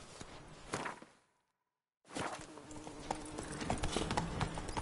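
Roach the horse trots along in a PS4 video game, hooves clip-clopping in a steady rhythm. The sound cuts to near silence for a moment, then resumes with continuous footfalls at a moderate, close-up level.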